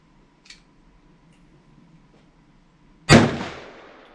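A handgun fitted with a laser fires its last magazine of ammunition that was stored in harsh conditions. After near silence with a few faint ticks, one loud, close gunshot cracks out and then decays quickly.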